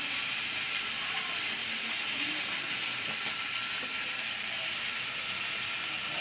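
Oil heating in a pan, ready for frying poa fish with tomato and onion, hisses and sizzles in a loud, continuous wash with faint stirring clinks and no talking.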